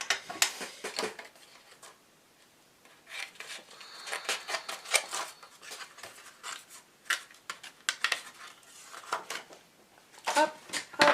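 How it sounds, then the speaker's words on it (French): Scissors snip through paper for handmade card making, bursts of short crisp cuts in quick clusters separated by pauses, close and fairly quiet, with some light rustling of paper between them. "je vais prendre ma paire de ciseaux"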